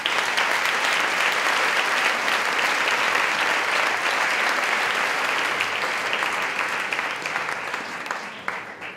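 A loud, dense burst of applause from the audience at an institutional inauguration, sustained and even for several seconds before tapering off at the end, with no voices over it.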